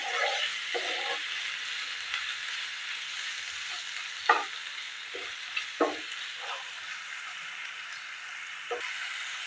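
Tomatoes sizzle steadily in a hot pan for a dhaba-style matar paneer curry, with a spoon scraping and stirring in several short, distinct strokes over the continuous frying hiss.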